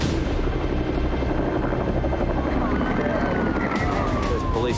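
A police search and rescue helicopter thuds overhead at a beach rip rescue, its rotor drone loud and continuous, with a police siren wailing in the background and voices talking underneath.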